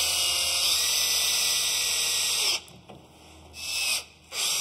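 A power screwdriver drives screws into the wooden stems of a canoe under construction, giving a high, steady whine that cuts off, then returns in two short bursts.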